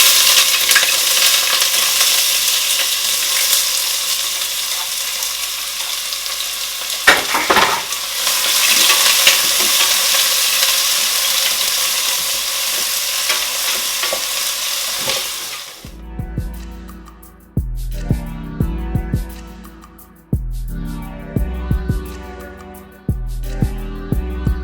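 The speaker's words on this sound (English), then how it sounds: "Now the oil is hot. I am going to add my onions." Onions hit hot oil in a pan for a beef mince spaghetti sauce, giving a loud, close, hissing sizzle for about sixteen seconds before it drops away to quieter intermittent kitchen clunks.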